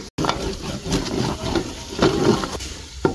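Ginger and garlic fry in a pan for Dindigul biryani with a steady soft sizzle, broken by occasional stirring scrapes and clinks close by.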